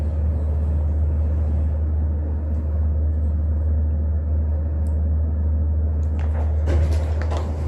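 A modernized KONE elevator descends with a steady low hum and rumble inside the car, ending with faint clunks and rattles as it slows.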